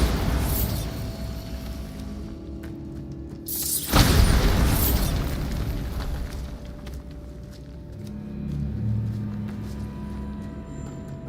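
A Bombarda blasting-spell explosion in Hogwarts Legacy clearing a barricaded archway, a single loud deep boom that lands abruptly and rumbles away, framed by ambient game hum and clatter before and after.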